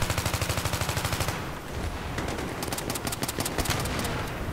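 Rapid gunfire from a pistol in the video game Battlefield 3, a dense string of loud sharp cracks with fast rhythmic reports up front, then scattered shots over a busy, noisy battle backdrop.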